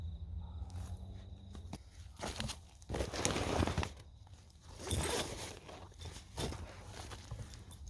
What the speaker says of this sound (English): The zips are a bit stuck.